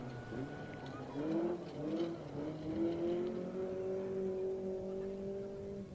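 Little Datsun 1600 rally car on a gravel special stage of the Southern Lights Rally, engine revving up and down through several gear changes, rising pitched whines at close to mid distance, with a voice talking over it.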